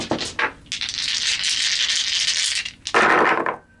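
Five dice shaken and rattled together during a tarot reading, a clattering burst followed by a longer steady rattle, then a final loud shake, close and alone with no talk.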